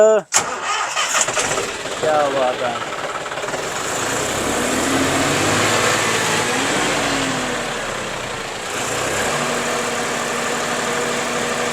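A tractor engine cranks and catches with a sharp start, then settles into a steady, loud idle close by while someone talks over it.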